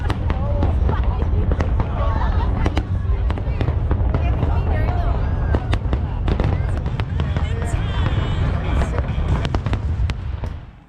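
Chinese New Year fireworks show in Hong Kong, a continuous barrage of loud bangs and crackles over a dense crowd murmur, sustained throughout.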